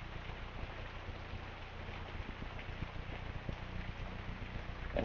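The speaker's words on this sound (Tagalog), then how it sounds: "Umuulan pa" Steady rain falls in a flooded neighborhood during an hour-long downpour, a continuous dense hiss with faint scattered drips throughout, no voices.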